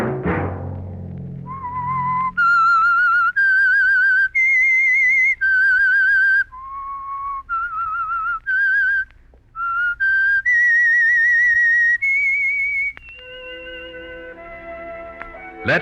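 A melodic whistled signal tune, the theme of The Whistler radio mystery show, plays as a sequence of clear, sustained, wavering notes that rise and fall, loud and alone.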